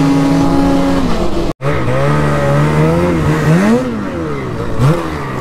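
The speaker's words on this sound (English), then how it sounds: "Gotta do wheelies in the flatlands." Engine of a vehicle revving loudly and continuously while doing wheelies in the Muskoka flatlands, pitch rising and falling in sweeps with a brief cut in the middle, close and alone.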